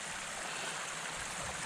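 A small mountain stream crossing the Appalachian Trail rushes steadily nearby, a dense broadband wash of flowing water with no voices.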